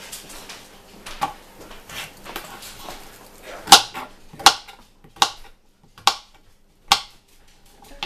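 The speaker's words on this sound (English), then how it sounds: "the dogs are trying to play with the cat, and the cat's saying no" Dogs play with a cat in a kitchen during vegetable prep, giving a run of sharp, close taps and scuffles, with several louder clicks spaced about a second apart toward the end and no talking.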